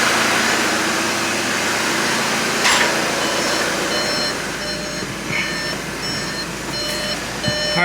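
A car with a newly installed European 4motion transmission idles in reverse, its steady engine hum accompanied by intermittent high reversing beeps, fairly loud and close, with no one talking.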